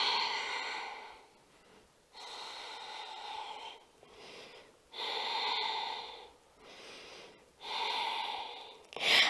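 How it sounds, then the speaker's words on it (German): Slow, deep breathing through a yoga flow toward dancer pose: long, loud, airy exhales and inhales alternating in a steady rhythm, close to the microphone, with short quiet gaps between breaths and no talking. "Atem fließt."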